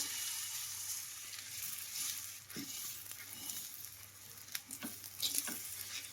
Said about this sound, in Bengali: এই চারুটা গরম হয়ে গেছে আমি এবার দিয়ে দেবো ব্যাটারটা ময়দার যে ব্যাটারটা রেখেছিলাম